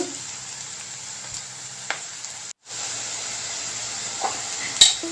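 Onions fry in hot oil for egg masala, giving a loud, steady sizzle that cuts out briefly midway as the pan is stirred and then resumes, with occasional scraping taps.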